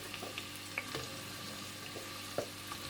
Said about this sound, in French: Je vais ajouter mes oignons que j'ai coupés en longueur